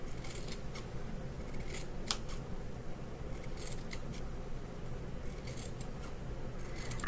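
Scissors snip steadily through rag quilt fabric at close range, a series of crisp repeated cuts with no one talking.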